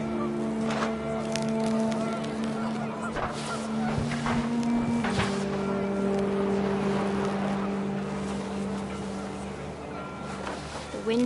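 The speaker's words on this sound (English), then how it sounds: "The wind picked up, and panicked geese appeared and quickly went." Panicked geese honk in the video game What Remains of Edith Finch, several short honks scattered over wind and ambient noise, moderately loud, with narration running over them.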